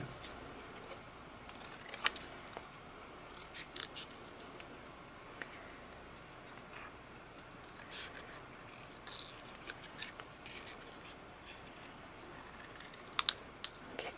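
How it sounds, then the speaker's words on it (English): Scissors snip out stamped red paper hearts for a Valentine card: faint, close, irregular cuts and paper rustles in a quiet room. "And then we're going to cut them out."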